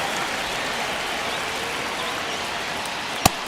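Stadium crowd noise from the MLB The Show 25 baseball video game, with a Dodgers vs. White Sox game in the ninth inning, forms a steady, loud roaring wash with no talk over it.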